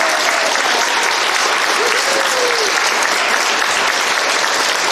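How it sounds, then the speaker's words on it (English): Loud, sustained applause from a school theatre audience at a stage production, steady clapping filling the whole stretch with no pause. "Please give a huge round of applause for our assistant director, Sasha Tyson."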